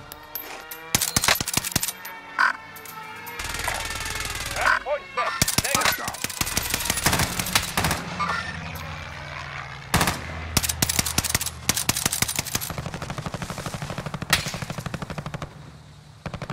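Repeated bursts of automatic gunfire from a Call of Duty Modern Warfare match, sharp shots clustering into rapid volleys with brief pauses, loud and close throughout, with players occasionally talking underneath.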